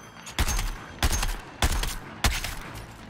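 Sniper gunfire in the Suicide Squad video game sounds as four sharp, heavy shots spaced roughly evenly about 0.6 seconds apart, each with a booming low thump and a lingering tail, loud and alone.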